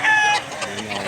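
A rooster at a Cebu livestock market gives a short, close cluck, a brief harsh call that fades quickly into background murmur.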